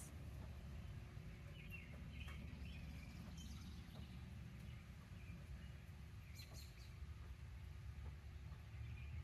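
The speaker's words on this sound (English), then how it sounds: "where it's just birds, the occasional loud truck." Quiet outdoor ambience with faint, scattered bird chirps and calls over a low rumbling background, no voices, calm and distant throughout.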